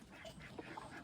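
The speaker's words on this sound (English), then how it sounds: "the two little ducks" Two small farm ducks quack faintly and briefly in a quiet barnyard with geese around, short soft calls at a distance over a low background hiss.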